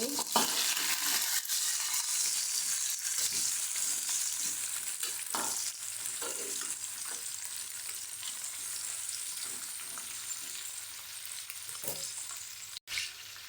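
Chopped brinjal (eggplant) pieces fry in a pan with garlic, sizzling steadily at close range while a spoon stirs and scrapes now and then, giving soft knocks and shuffles over the continuous hiss.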